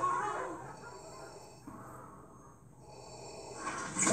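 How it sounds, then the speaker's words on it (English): Darth Vader's mechanical breathing, reused as a sound effect in Wreck-It Ralph: a slow raspy respirator inhale and exhale heard close and alone, with a hiss that rises again at the end. "That's Darth Vader's breathing!"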